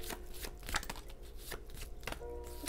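A deck of tarot cards shuffled by hand, several quick riffling bursts of card edges slapping together, close to the microphone with no voices.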